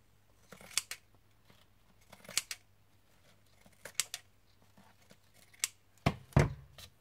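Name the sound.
pinking shears cutting card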